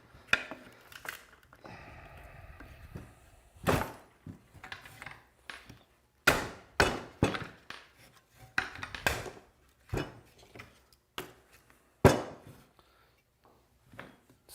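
A steel chisel chopping into wet cedar for a mailbox post, sharp irregular knocks and strikes, some in quick pairs, with quiet pauses between them.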